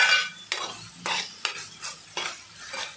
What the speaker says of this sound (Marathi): कोळंबी टाकत आहे याच्यामध्ये मी.